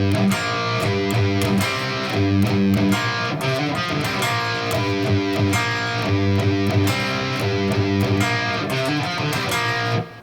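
Overdriven electric guitar runs through a riff in standard tuning, single notes moving into double stops, steady and loud with rhythmic picking across the whole stretch and no talking.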